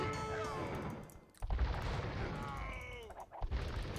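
Hand cannon gunfire in a real-time strategy video game battle, a sustained clatter of shots and crashes with a louder burst of impacts partway through.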